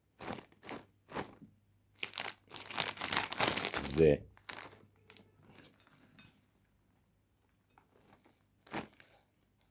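A cheese-flavoured Lulu chips snack bag crinkles and rustles in short, close bursts, loudest in the middle, with a person talking between the handling noises.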